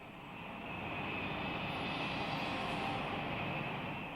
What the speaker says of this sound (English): From their bases in Formosa, Japanese planes head for the Philippines